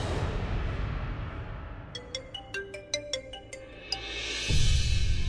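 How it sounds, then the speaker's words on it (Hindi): A mobile phone plays a melodic electronic ringtone, a short run of clear, bright chiming notes in a quiet indoor setting, with no voices. "किसका फोन आ गया?"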